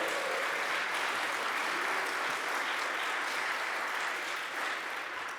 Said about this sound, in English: I think that's deserving of an applause, don't you?